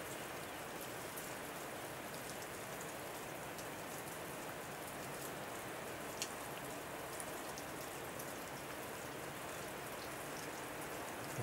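Steady heavy rain pours down on the road to Liguria, a dense continuous hiss that stays even and fills the whole stretch, with no voices over it.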